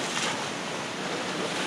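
Steady broadband rush of ocean waves and wind around a heeling sailboat on a choppy sea full of white caps, loud and continuous with wind buffeting the microphone, no voices.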